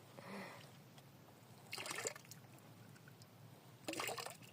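Sliced bisugo fish being washed in water by hand: two bursts of splashing and trickling water, close and moderately loud, separated by quieter gaps with faint dribbling.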